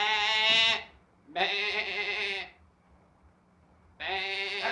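A voice imitates a sheep bleat as a signal in a radio drama, giving three drawn-out, wavering bleats separated by short pauses, close and clear.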